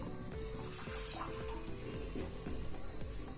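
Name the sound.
water poured into pan with sugar for caramel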